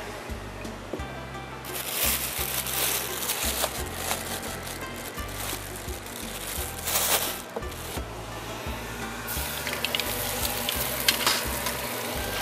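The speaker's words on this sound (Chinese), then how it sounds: "那现在油锅热了，那我先放我们手工制的蛋饼皮。" A handmade egg pancake wrapper fries in hot oil, sending up a continuous bright sizzle over a low, rhythmic thumping background, with no voices.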